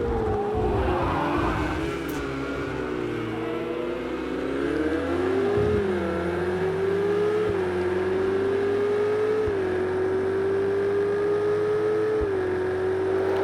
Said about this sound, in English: Obviously the cars bunch up when he's on the brakes and I'm still on the gas.